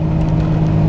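A Jeep TJ with a 4.6 stroker engine cruising around town, giving a steady, loud, low engine drone heard from close by with no talk.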